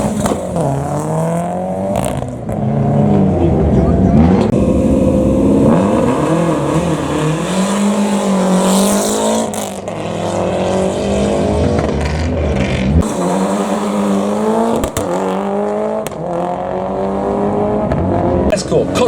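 A Ford Escort Cosworth Group A rally car accelerates hard, its engine rising and falling in loud rising revs through several gear changes with sharp pops, close by, under excited commentary.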